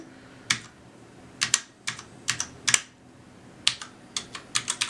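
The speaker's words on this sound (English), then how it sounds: "let's see if we can actually get a recording of the actual typing experience on it" Keys clacking on a Ducky mechanical keyboard, Year of the Dragon edition, in short irregular bursts of crisp taps with quiet gaps, close and alone.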